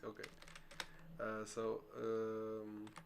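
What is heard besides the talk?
computer keyboard typing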